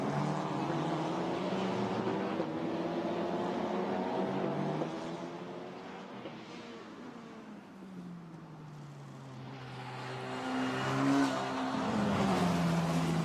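Formula Renault Eurocup race cars battling at Spa-Francorchamps on a drying track, engines screaming and droning at a distance, pitch sweeping as they pass, fading in the middle and swelling loud again.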